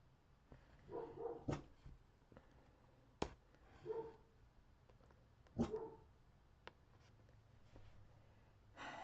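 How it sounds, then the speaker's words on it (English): A small dog indoors barks at people passing outside during neighborhood dog-walking time, giving several sharp, separate barks spread across the span against a quiet room. "that's why my other dog is barking. She keeps seeing people."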